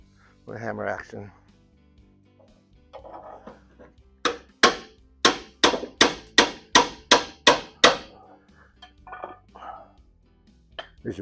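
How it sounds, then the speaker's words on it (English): Hammer blows ring out during a vehicle rear axle teardown with worn leaf-spring shackle bushings, a fast run of about ten sharp, loud metallic strikes in even rhythm, with brief talk and scraping before and after. "Hammer action."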